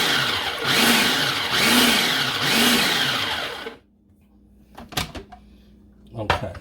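A food processor pulsing Parmesan and pesto ingredients, three loud whirring pulses with a rising and falling motor pitch, then a sudden stop followed by a few faint knocks and clatters.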